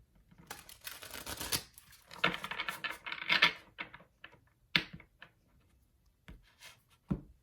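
Tarot cards are shuffled close to the mic, giving quiet papery riffling and flicking bursts with soft taps and slaps, uneven in rhythm with brief pauses between.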